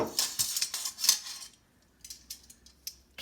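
Metal tongs click and scrape against a pan while turning zucchini slices, a rapid run of bright clinks for about a second and a half, then a few sparser taps.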